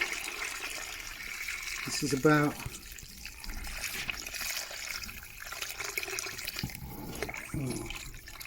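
Water pours and trickles steadily into a bucket of wood shavings, with a person speaking briefly over the flow.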